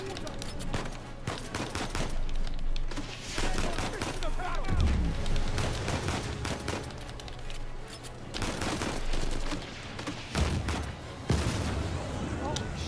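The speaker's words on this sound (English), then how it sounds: "Ah, now we're getting to the shooty bits." Gunfire in Uncharted 4: A Thief's End, with bursts of rapid shots and heavy booms cracking through a firefight while someone talks over parts of it.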